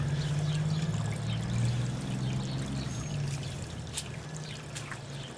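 Water drains from a pool filter during backwashing, a steady gushing pour with a low rushing tone and constant splashing, close and fairly loud throughout with no talking.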